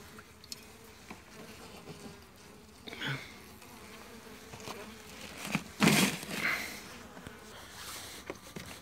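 Honeybees buzz busily at a weak hive while being fed sugar syrup in an area of heavy agricultural spraying, a steady close insect hum with a few louder swells and rustling handling noises.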